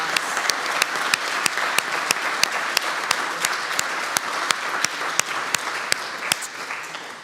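An audience at a Falling Walls Lab science pitch event in Edmonton applauds its fifteen finalists, with steady clapping and one loud, regular clap standing out close to the microphone throughout.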